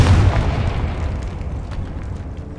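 A Confringo fire spell bursts in Hogwarts Legacy, a single deep booming explosion up front that rumbles and fades away over a couple of seconds with no talking.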